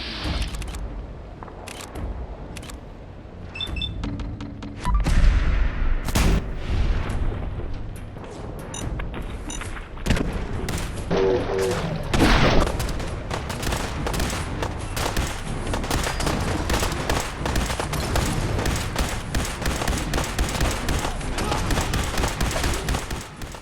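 Dense gunfire from a Fallout 4: Far Harbor battle: rapid shots and heavy booms crackle in a steady barrage for over twenty seconds, with a few louder blasts near the start and scattered faint shouts beneath.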